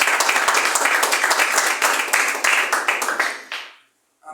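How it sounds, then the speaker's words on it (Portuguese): A church congregation claps strongly to welcome the preacher, loud sustained applause that swells and then fades out, followed by a short sound after a gap. "Vamos receber o servo de Deus com aquelas palmas bem fortes para Jesus"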